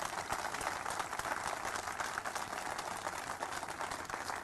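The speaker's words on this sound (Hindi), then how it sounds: "फिर तो जोर से तालियां बजा दो।" Crowd clapping at an airport naming ceremony in Hisar, a steady dense wash of applause that holds evenly through the whole stretch without pause.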